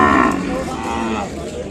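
A loud, close moo from Ongole cattle at a bull market in Kodad, a single long low call lasting the whole moment.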